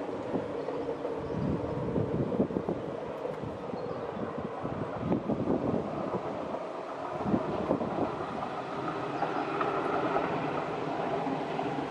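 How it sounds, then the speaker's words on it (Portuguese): A train in Portugal rumbles past steadily for several seconds, a broad continuous roar with some wind noise, no voices. "O trem vai passar ali."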